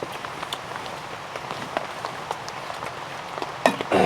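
Rain falls at a hot-tent campsite in a deep forest, a steady pattering of drops with a few louder close taps and a rustle near the end.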